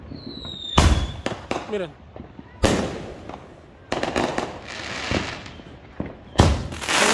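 Loud Fourth of July fireworks bursting in several sharp, booming blasts with crackling tails and a whistling rise, close by, while someone speaks briefly between explosions.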